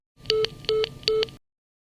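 Three pairs of short electronic tones beep in a steady rhythm, like a phone line's out-of-service signal, clear and close, then silence.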